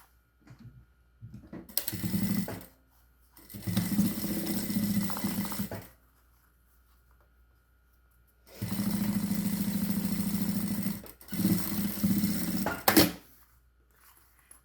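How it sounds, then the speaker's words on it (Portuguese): A sewing machine runs in several short bursts, each a steady whirring hum of a second or two, stitching a seam along a fabric edge, with quiet pauses between runs. "vem aqui e passa uma costurinha na beiradinha"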